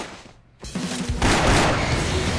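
A loud fusillade of gunfire erupts in an anime episode after a brief lull, dense overlapping shots building into a sustained barrage.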